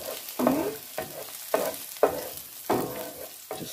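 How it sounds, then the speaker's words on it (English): Beef fried rice sautés in a hot pan, with six rhythmic bursts of sizzling as the rice is stirred and tossed, close and clear with no voices. "Just saute that a little bit."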